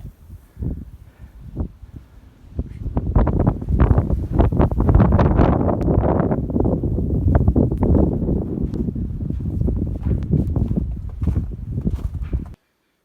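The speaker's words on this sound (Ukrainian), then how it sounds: "Боже, який вітер." Strong wind buffets the microphone in loud, rough gusts during a snowstorm, with a few scattered thumps and crunching steps in snow early on.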